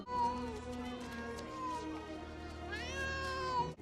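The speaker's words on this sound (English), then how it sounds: "it sounds like such a sad cat." In a Hocus Pocus film scene, a sad-sounding cat meows in long, drawn-out, mournful wails, rising and falling over several seconds at moderate volume.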